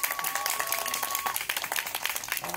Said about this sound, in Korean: 한번 박수 한번 부탁드려도 될까요?